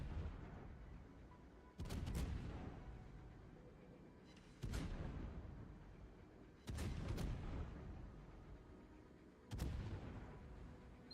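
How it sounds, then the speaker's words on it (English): Naval gun salvos fired from a warship in World of Warships, four heavy booming volleys spaced a couple of seconds apart, each with a rolling tail, loud and distant-sounding, no voices. "So I spend some time shooting at Rune instead, get that triple citadel salvo"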